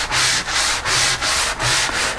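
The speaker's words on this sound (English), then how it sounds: "now we're going to do a light sanding in all of the four joints." Light hand sanding of wooden floor lamp joints: steady back-and-forth rasping strokes in an even rhythm of about six passes, close and fairly loud with no talk.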